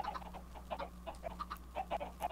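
Chickens cluck in the Minecraft video game, a scattered series of short, faint clucks from a crowd of birds over a low steady hum.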